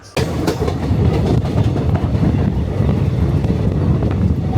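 Passenger train running at speed, with a loud, steady rumble and rhythmic clickety-clack of wheels on rails, heard up close as if from on board, with wind buffeting the microphone.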